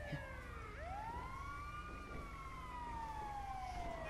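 An ambulance siren wails in GTA 5 Online, a steady rising and falling electronic tone sweeping over continuous game traffic noise, loud and close with no talk.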